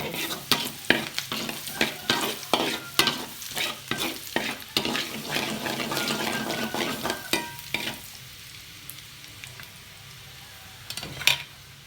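Squid stir-fried hard in a pan with garlic for a salted-egg dish: rhythmic spatula scrapes and clatters over a strong sizzle for about eight seconds, then a quieter, fading fry with one last scrape, with no talking.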